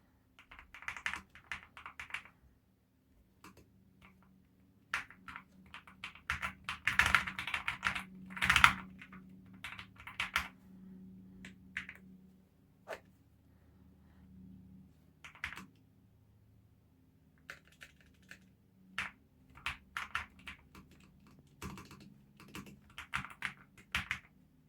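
IQUNIX MQ80 aluminium mechanical keyboard being typed on, bursts of clicky keystrokes in irregular runs with short pauses, fairly close and moderately loud, no talking.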